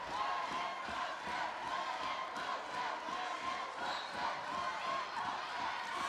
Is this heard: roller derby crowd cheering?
yes